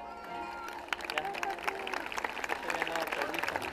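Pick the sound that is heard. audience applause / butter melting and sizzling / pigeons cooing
audience applause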